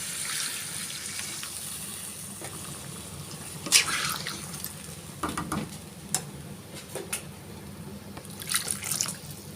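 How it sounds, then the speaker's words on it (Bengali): Water is poured into a pan of desi rooster curry being cooked, producing scattered splashes and drips, with a few louder pours standing out over a quiet kitchen background. "এগুলো কষিয়ে নেওয়া হয়েছে এখন ঝোলের জন্য দিয়ে দেব পানি"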